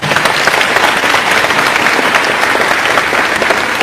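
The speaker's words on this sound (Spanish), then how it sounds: "Aplausos para los dos hermanos." A church audience applauds steadily and loudly, a dense wash of clapping hands with no pauses, without speech.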